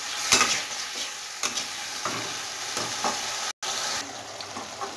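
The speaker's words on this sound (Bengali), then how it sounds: "মিডিয়াম হিটে রেখে মশলাটাকে ডাঁটার সাথে আমি 3 থেকে 4 মিনিট" Spice masala fries over medium heat with vegetable stems, a constant close sizzle broken by periodic scraping strokes of a spatula, with no voices.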